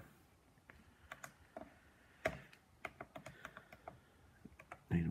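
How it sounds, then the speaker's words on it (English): Numbers are tapped into a calculator with a series of quiet, irregular plastic key clicks, some in quick bursts and a few louder presses, in an otherwise quiet room. "we're just going to simply just type that into our calculator"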